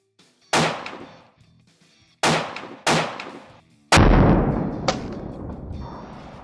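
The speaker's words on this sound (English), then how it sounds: "I like shooting 5 shots like this" Savage Striker handgun fired at an outdoor range, with several loud, sharp reports spaced irregularly over a few seconds, each one trailing off in a ringing echo.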